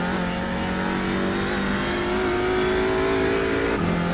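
A TCR race car accelerates on the Nordschleife in a racing sim. The engine tone climbs steadily and drops back briefly at a gear change near the end, staying loud and close with no talk over it.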